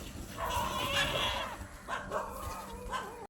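A dog barks and yips several times in quick, uneven bursts while giving chase, fairly near, with brief pauses between.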